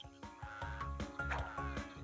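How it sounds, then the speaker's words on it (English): Frogs croak in spring, calling to attract mates, in a rhythmic series of about eight throaty pulses that are faint and heard alone. "In spring, male frogs croak their very best croaks to attract female frogs."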